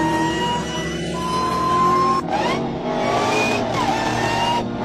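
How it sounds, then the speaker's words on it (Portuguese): A Dodge Challenger Demon sports car drives past with a loud, continuous engine roar, revving and rising in pitch with a brief tire squeal, close and steady throughout. "esse é o Dodge Challenger Demon"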